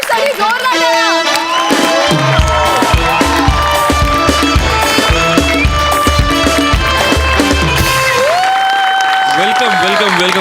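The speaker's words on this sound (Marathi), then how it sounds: "पार्थेशसाठी जोरदार टाळ्या." Studio audience on a Marathi comedy show stage clapping and cheering loudly and steadily for the whole stretch, mixed with upbeat music and voices.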